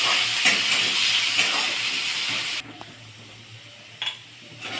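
Potatoes frying in a pan, a steady loud sizzling hiss that cuts off suddenly partway through, followed by quiet clinks of a utensil.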